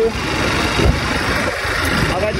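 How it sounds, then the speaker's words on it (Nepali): A tractor engine draws near on a road, a loud, steady, close rumble that fills the scene throughout, with talk under it. "ट्र्याक्टर आउँदैछ गाइस"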